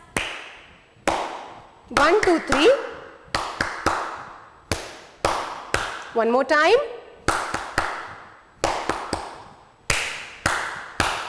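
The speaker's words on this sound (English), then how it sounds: "Okay children, come on, do claps." Kindergarten children clap their hands in unison during a classroom action-words lesson, sharp rhythmic group claps in spaced bursts, while a teacher counts aloud between them.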